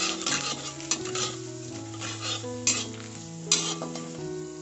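A spoon stirs ginger paste and asafoetida in a hot pan, steady sizzling frying with repeated scraping strokes and a few bright metallic clinks against the pan, close up and continuous.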